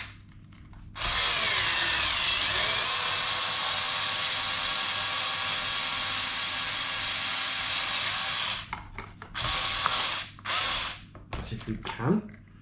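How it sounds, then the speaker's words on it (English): Screws are driven out of an Absima Torch Gen 2.0 6S RC car with a powered driver, giving a long, steady whirring buzz followed by a few short bursts and clicks. "is let's just take these screws out."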